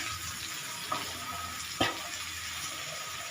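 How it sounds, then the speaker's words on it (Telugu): Chili powder and spice powder frying in a hot pan, a steady close sizzle with a couple of brief scraping stirs, no talking. "కారం కొంచెం ఫ్రై అయ్యాక మనం పెట్టుకున్నాం కదా పౌడర్ దాన్ని వేసేస్తాం"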